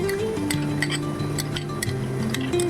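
A spoon stirs yogurt into a spicy black chickpea curry in a pan, giving light repeated clinks and scrapes against the metal with no talking, over steady background hum.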